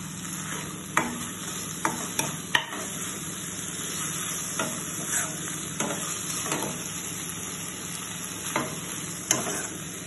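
Momo stuffing sizzles and fries in a pan over a low flame, a steady close crackle broken by occasional sharp scrapes and taps of a spoon stirring against the pan.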